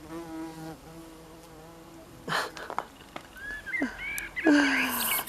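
A bee buzzes close among columbine flowers in a cottage permaculture garden. Its steady droning hum lasts about two seconds, followed by soft rustles and a few bright chirps.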